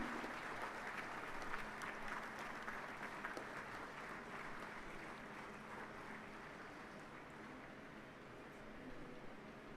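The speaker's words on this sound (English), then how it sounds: "Give him a big round of applause." An audience at a Southern Railway Week celebration applauds an honoree, producing a sustained, even wash of many hands clapping, moderately distant and steady throughout with no voices over it.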